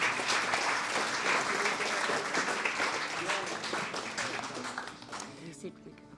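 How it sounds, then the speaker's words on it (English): Sustained round of applause from the audience at a clan chief recognition ceremony, dense clapping that stays steady before thinning out toward the end, with voices murmuring underneath. "Can we please get a round of applause for Christine Wilson and Helena Dalton?"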